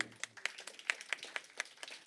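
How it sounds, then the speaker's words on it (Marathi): Audience clapping at an honouring ceremony for social workers, heard as a sparse, fairly quiet run of separate hand claps at a steady rhythm, like a small group of people. "टाळ्या वाजवून आपण त्यांचा."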